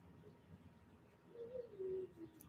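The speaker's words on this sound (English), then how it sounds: "Can you hear those beautiful birds?" A few soft cooing bird calls, somewhat distant, rising briefly over a quiet outdoor background with no talking.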